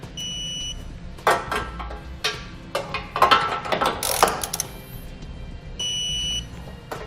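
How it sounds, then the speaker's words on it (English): A ratchet torques EcoHitch hidden trailer hitch hardware on a 2019 Subaru Outback Wagon, giving several seconds of close, rapid clicking bursts. Steady electronic beeping tones sound before and after the clicking. "We can then go back and torque all of our hardware"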